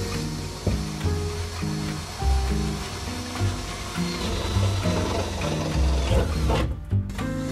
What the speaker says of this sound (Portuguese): se você vai comprar aí uma furadeira, pode comprar essa aqui